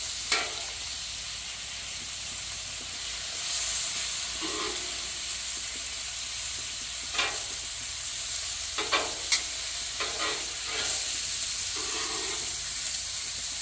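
Steaks sizzle in butter on a Blackstone griddle with a steady close hiss, while a few faint scrapes and soft clinks of a utensil land now and then over the frying.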